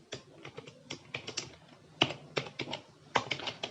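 Close computer keyboard typing C code, a quick irregular run of crisp key clicks with brief pauses between bursts.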